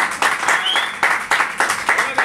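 An audience at a community event claps in a burst of applause, with uneven, rhythmic waves of claps that rise and fall, close and moderately loud, a voice briefly audible alongside.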